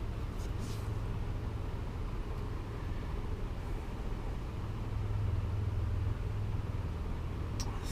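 A Fasco heat cycler fan motor, a non-working unit with some broken blades, spins down with a low, steady hum and whir that drones on throughout at moderate level.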